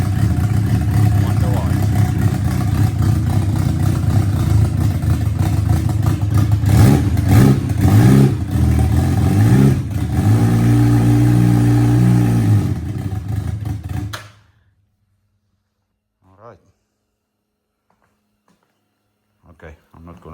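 Suzuki Hayabusa Turbo motorcycle with a new clutch and a faulty rev counter, its engine running loud and close with rising revs and a throaty burble, then abruptly cutting to near silence with a few faint clicks.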